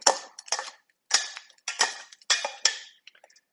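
A utensil scrapes and clatters against a pan while carrots are stirred, several sharp bursts in an uneven rhythm, close and fairly loud, with short silences between them.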